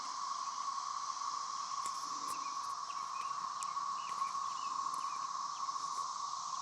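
A dense, steady chorus of cicadas drones from summer trees, continuous and fairly loud with no pauses, joined by a few faint bird chirps.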